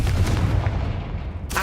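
Incendio and Confringo spells cast in the video game Hogwarts Legacy, a loud booming blast with a heavy rumbling decay and a sharp second burst at the end.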